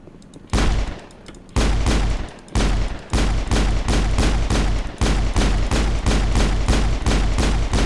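Rapid gunfire from a weapon in the video game Mass Effect comes in loud, sustained bursts separated by short pauses, the shots in each burst fast and even, with no speech.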